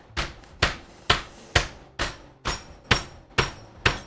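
A mallet pounds a piece of meat on a hard surface, giving nine evenly spaced, sharp, close thuds in a steady rhythm with short quiet gaps between them.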